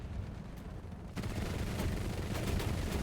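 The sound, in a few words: gunfire in a video game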